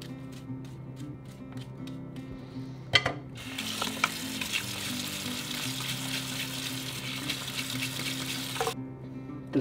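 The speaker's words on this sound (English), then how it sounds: "Now I'm going to use the charcoal soap." A paint brush is scrubbed against a wet bar of charcoal soap, producing a steady, close, frothy hiss and lathering swish with a few sharp knocks.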